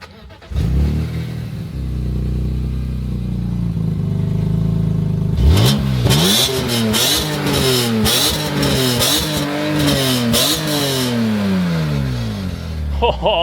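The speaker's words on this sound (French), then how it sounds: "On démarre ça. Elle est chaude." A BMW M3 E46 with the hood open cranks and fires up warm, settling into a steady idle before a run of sharp, repeated throttle blips that rise and fall in pitch, loud and close.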